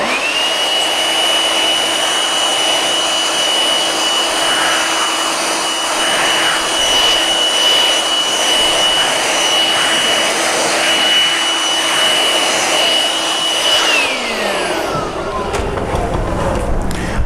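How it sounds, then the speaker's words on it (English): A handheld air blower blasts across an oak kitchen shelf, its loud steady whine and rushing air running continuously for about fourteen seconds before it winds down and cuts off. "Now, I've never seen a blower used for that before"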